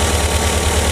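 An idling engine on an '85 Volkswagen Vanagon with vacuum advance connected, a steady close low rumble with a rhythmic pulse throughout, heard alone.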